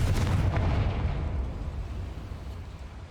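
A Confringo spell in the video game Hogwarts Legacy bursts into a single loud, close explosion that rumbles and fades over about three seconds, with no other sound over it.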